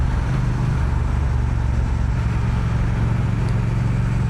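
A Triumph Speed Twin 1200 motorcycle engine rumbling steadily up close, a deep constant drone with wind rush, loud and unbroken throughout while the bike is ridden.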